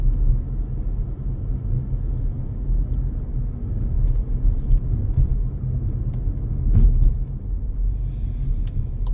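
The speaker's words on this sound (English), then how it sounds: "This is an incredibly bumpy road, my god." Car driving along a very bumpy countryside road in Sussex, a low, steady engine and road rumble inside the cabin, with a few louder jolts and rattles partway through.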